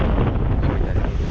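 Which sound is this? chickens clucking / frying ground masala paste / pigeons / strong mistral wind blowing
strong mistral wind blowing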